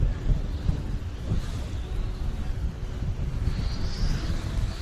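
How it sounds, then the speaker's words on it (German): Strong wind in Helsinki buffets the microphone in uneven gusts, a rough low roar with a faint hiss on top, no voices. "es ist aber auch echt super windig hier"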